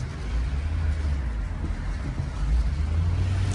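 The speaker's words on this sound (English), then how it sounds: "this engine is so smooth" Toyota Avalon engine running smoothly while driving with the windows down, a steady low rumble with road and wind noise close around the cabin.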